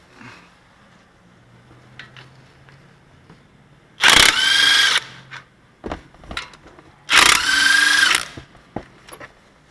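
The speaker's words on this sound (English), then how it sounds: "We're going to take this caliper out of our way. 15mm, 1/2 inch impact, swivel socket." A 1/2 inch impact wrench with a 15mm swivel socket removes a brake caliper, firing in two loud, close bursts of about a second each, with quiet clanks of tools in between.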